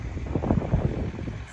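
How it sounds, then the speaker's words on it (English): Breezy wind gusting across an open outdoor recreation ground at a truck, tractor and car show, a low rumbling buffet on the microphone that swells and eases in soft pulses. "it's a little bit breezy out here at Ivanhoe"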